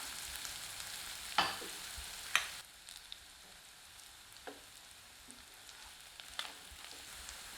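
Andhra-style chicken fry sautés with curry leaves and coriander leaves in a pan, a soft steady sizzle broken by a few sharp spoon scrapes and clinks, with no talking.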